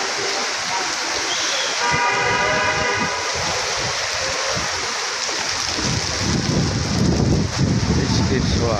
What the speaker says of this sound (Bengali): এখন আবার ফ্লাইওভারের নিচ দিয়ে ট্রেন চলে আসতেছে।